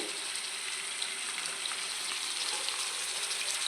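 Onions frying hard in a pan on high flame, a dense, continuous close-up sizzle and crackle that holds steady without any voices.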